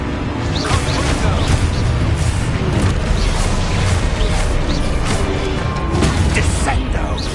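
Confuso spell being cast in Hogwarts Legacy amid dense combat, with loud continuous magical whooshes, crashes and impacts layered over a rumbling low end.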